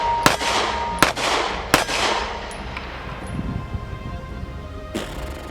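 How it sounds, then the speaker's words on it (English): Three sharp gunshots from a Canik TP9sf Elite pistol crack in quick succession near the start, each trailing a long ringing decay, followed by a fainter fourth shot near the end with outdoor ambience between. "Anybody come shoot this gun."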